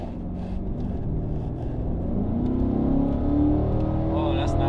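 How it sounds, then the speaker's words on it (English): A Chevrolet Corvette C8 with a V8 engine accelerates hard, a steady rumbling drone that climbs in pitch as the revs build, heard from inside the car. "This has a V8."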